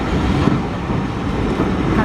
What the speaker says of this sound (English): Wow, it's quite a long train.